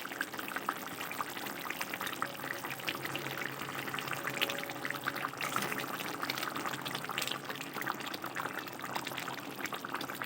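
Banana flower pieces going into a simmering fish curry in a pan, a steady soft bubbling and sizzling hiss with faint splashes, continuous and close with no talking.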